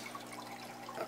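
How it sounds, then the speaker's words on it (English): Steady, soft rush and trickle of water circulated by a small aquarium pump in a 10-gallon indoor aquaponics tank, continuous and fairly quiet with no voices. "and then it's just being pumped out by the pump."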